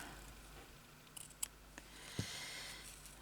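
Small scissors snip embroidery thread during hand stitchery, a few faint, sharp clicks and one firmer cut spread across a quiet, low-level background.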